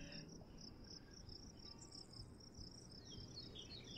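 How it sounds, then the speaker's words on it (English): A bin of crickets chirps in steady, continuous high trills that layer and shimmer throughout, with a low rumble underneath and no voices. "we have a bin of crickets"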